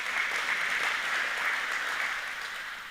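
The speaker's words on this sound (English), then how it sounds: "Can we give them another round of applause?" A live audience at an agricultural spray forum gives a round of applause, steady dense clapping that holds evenly throughout and tapers slightly at the end, with no voices over it.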